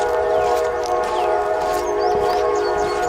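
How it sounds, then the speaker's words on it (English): A freight train passing nearby, heard as a steady, loud rumble with sustained tonal horn-like drones throughout, no talk. "We have a freight train that goes through here multiple times a day."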